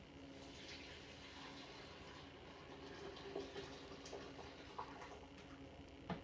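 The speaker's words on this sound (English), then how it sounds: "I'm going to pour the coffee in" Coffee streams steadily into a Vitamix blender jar with a soft, continuous trickling pour, faint and close, broken by a few small knocks and clicks.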